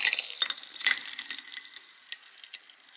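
Sugar crackles briefly after freshly boiled kettle water is poured over it: sparse, sharp little pops and ticks, close and fairly quiet, thinning out within a few seconds.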